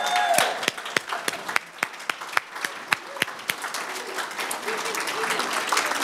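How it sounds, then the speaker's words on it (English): Scattered sharp claps ring out, then blend into a broader wash of applause from a crowd at a sports hall of fame induction ceremony, moderately loud and somewhat distant. "One more time, a round of applause for the Army Sports Hall of Fame class of 2018."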